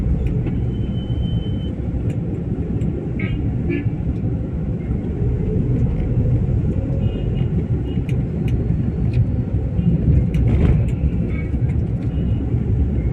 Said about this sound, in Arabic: ولا طريق زحمه عادي عادي